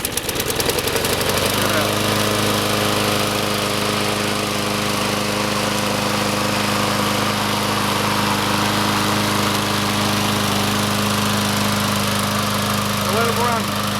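A Troy Bilt lawn mower with a Briggs & Stratton 6.5HP engine sputters to life and settles into a steady, loud, close idle running on without pause.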